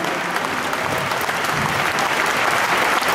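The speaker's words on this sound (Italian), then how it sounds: "Fate un applauso a quest'uomo" Dense, sustained applause from a large crowd at an outdoor political campaign rally in Siena, Italy, steady and loud throughout with no pause.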